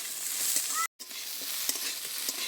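Chopped potatoes stirred as they fry in a pan, an even sizzle with light scraping strokes, cut by a brief silent gap near the one-second mark.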